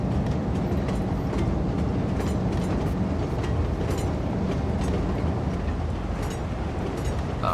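A train from the Cities: Skylines II game rumbles along steadily, a loud, low rolling drone with faint rhythmic rail clatter and no break for the whole stretch.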